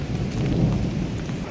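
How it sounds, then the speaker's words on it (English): A heavy thunderstorm pours rain off the roof of a van near Prairie Rose Lake, a loud dense roar of falling water with a deep rumbling low end, continuous and close. "The sound of the rain falling off the roof like that, it's the best white noise in the world."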